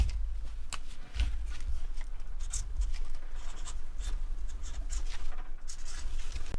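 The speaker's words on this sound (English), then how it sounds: "Maybe I should write this down." A pen scratches across paper in quick, irregular strokes, faint and close, with small taps and pauses between marks during an RC car frame build, and no talking.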